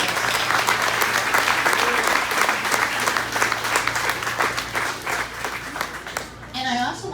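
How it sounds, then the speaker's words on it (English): Loud, sustained applause from an open house event crowd fills the whole stretch with dense, continuous clapping, tapering slightly near the end as a voice begins to come through. "a round of applause for the Culinary and Nibbler's"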